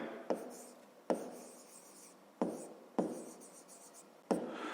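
Pen writing on paper during a maths exercise, several distinct bursts of scratching strokes spaced a second or so apart, close and fairly quiet with a softer hum between.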